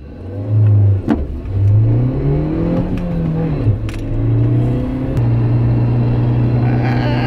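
A 2019 Suzuki Jimny 1.5 AllGrip four-wheel-drive engine revs hard from 0 to 60 mph through several gear changes, the pitch climbing, dropping and climbing again, loud and close from inside the vehicle.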